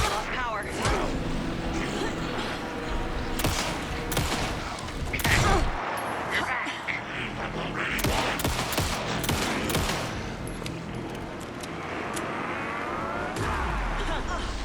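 Rapid bursts of gunfire ring out in the survival horror video game Alan Wake 2, sharp repeated shots mixed with engine-like rumble and game effects, with voices talking throughout.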